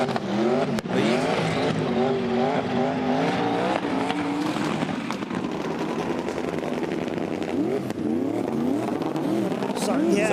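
Drift cars at the FIA Motorsport Games rev hard with wavering engine pitch and squealing tires, loud and continuous, while commentators talk over them.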